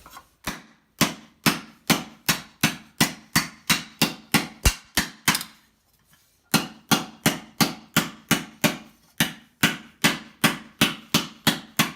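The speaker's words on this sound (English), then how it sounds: "on to hammering." Hammer blows strike a metal armor elbow piece in steady, evenly spaced rhythm, sharp ringing taps about twice a second, pausing briefly midway before resuming at the same pace, close and clear with no talk.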